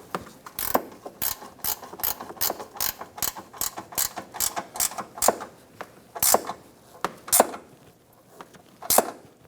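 A ratchet wrench snugs the bolts on a 2012-2018 Ford Focus windshield washer reservoir, clicking out a long series of sharp, close ratcheting bursts in an uneven rhythm with no talk.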